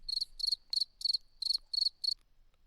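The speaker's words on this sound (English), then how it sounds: "Give us a cricket again." Cricket chirping sound effect: seven rapid, evenly spaced bursts of high, buzzy trills, crisp and close against silence, ending abruptly.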